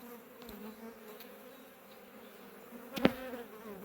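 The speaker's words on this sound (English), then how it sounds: "More of them start flying the more I move my hand around." A soft, steady insect buzz of several honey bees drones quietly around a hive, with a brief louder buzz passing close by near the end.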